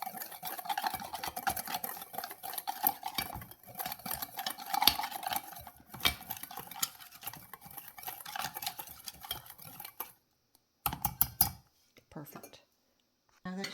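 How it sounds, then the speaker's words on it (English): Spoon stirring a small homemade spice seasoning blend containing a pinch of cinnamon, with busy clinking and scraping against a container, fairly close, pausing briefly near the end. "So now you're going to mix that all up."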